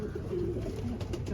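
A desi pigeon, a strong flying breed, coos softly and steadily in a low murmuring rhythm, close by, with faint background noise and no talk.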